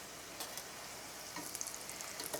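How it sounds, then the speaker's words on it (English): Tortillas sizzle faintly in hot frying oil on high heat, a low steady crackle with a few small pops, and no voices. "it's gonna sizzle when I stick a tortilla in it, and it's sizzling"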